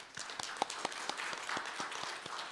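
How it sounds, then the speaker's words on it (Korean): Audience at a Won Buddhist Wednesday service applauding in congratulation, a thin, fairly distant patter of individual claps with distinct sharp hits standing out, quiet overall. "축하의 박수 한번 보내주시죠."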